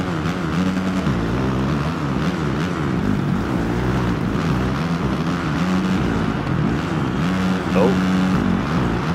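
Dirt bike engines whine steadily through an online Monster Energy Supercross 2 video game race, a continuous droning buzz with shifting pitch that stays loud and close throughout.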